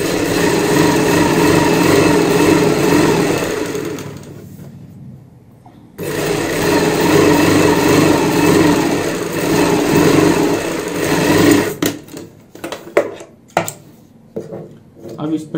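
A sewing machine runs a steady loud stitch along a 2.5-inch fabric strip for a kurti neck band, pausing briefly midway, then giving way to scattered clicks and handling sounds at the end.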